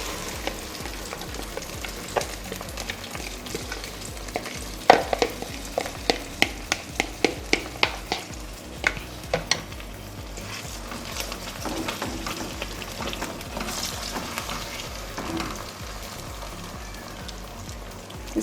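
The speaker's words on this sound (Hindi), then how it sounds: "इसको अच्छे से मिक्स करते हुए पकाते रहेंगे हम" Bread and milk batter for bread halwa cooking in ghee and being stirred, a steady soft sizzle with repeated scraping and clinking of the spoon against the pan throughout.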